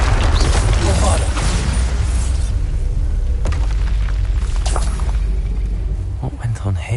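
A Bombarda blasting spell detonates in Hogwarts Legacy with a loud, close boom. A heavy low rumble and crackling debris follow and roll on for several seconds before tapering off.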